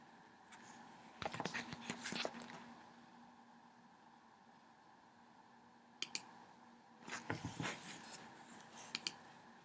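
A computer mouse gives bursts of quick, close clicks in two clusters separated by a quiet pause, with a few isolated clicks near the end, alone without speech.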